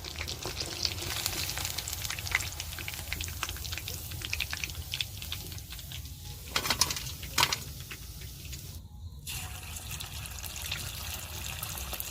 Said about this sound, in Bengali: আমি সব পকোড়া ভেজে নেব